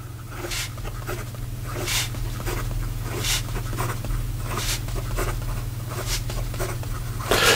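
Newton Prospector fountain pen nib scratching quickly across paper in repeated strokes, close and moderately loud, with a steady low hum running underneath.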